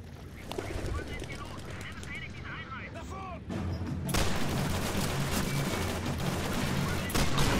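Heavy wartime gunfire and blasts from Call of Duty 3 in a wine-cellar firefight, with a broad explosive burst swelling midway and dense crackling shots continuing loudly throughout, faint voices underneath.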